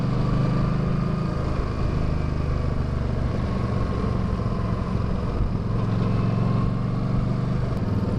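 Yamaha V-Star 1300 Deluxe cruiser motorcycle engine running steadily at a constant pace, a dull, muffled, smothered-sounding drone with no talk over it.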